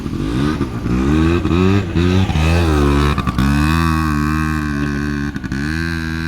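A quad bike (dabbab) engine on Abu Road in Jubail, Saudi Arabia runs loud and close, its pitch rising and falling as it revs repeatedly with short throttle blips.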